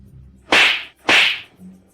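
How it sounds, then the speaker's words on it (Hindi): Two sharp slaps to the face, loud and close, each a single crisp smack about half a second apart, with no voices. "जाओ उसे फिर से 2 थप्पड़ मारो।"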